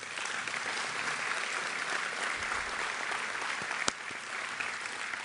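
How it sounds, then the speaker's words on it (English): Steady applause from an audience at an evening event in Greater Boyd County, honoring the sponsors; dense clapping runs evenly throughout at moderate level with one sharp louder clap near the end. "Could we give a warm round of applause for our sponsors tonight?"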